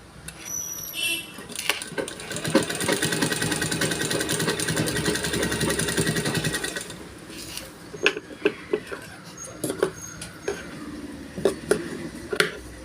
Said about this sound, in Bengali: দিয়ে পরে এর উপরে একটা চাপ সেলাই দেবেন